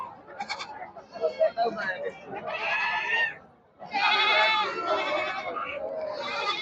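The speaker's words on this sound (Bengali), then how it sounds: "এখানে হাজার হাজার সব ছাগল আছে দেখেন" Black Bengal goats at a busy goat market bleat repeatedly, several loud overlapping calls close by, with crowd chatter and talk throughout and a brief lull midway.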